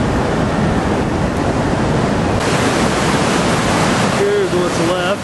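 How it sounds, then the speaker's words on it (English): Flash flood water in a sand-choked river channel near Page, Arizona rushes in a loud, steady roar that fills the whole scene, and a faint whistle-like tone appears near the end. "See, the water's still kind of flowing here."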